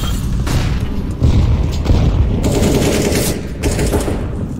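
A grenade goes off in Counter-Strike on the Inferno map: a heavy boom within a dense, loud stretch of rapid gunfire and clattering mechanisms, with no voices.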